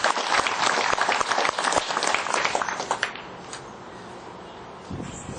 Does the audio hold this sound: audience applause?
yes